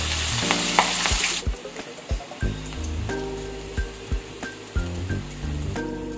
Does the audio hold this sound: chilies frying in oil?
yes